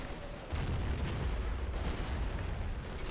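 A 25-pounder artillery gun fires in a video game: one deep, heavy boom that rolls on as a low, sustained rumble for a few seconds.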